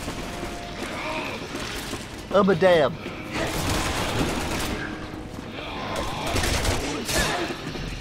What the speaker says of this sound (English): I hear gunfire. Why do I hear gunfire?